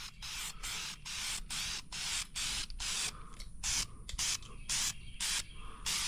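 A rattle can lays a light first coat of paint on a 360 FE engine from a 1968 Ford F250. The hiss comes in repeated short bursts about half a second apart, close and steady, with no talking.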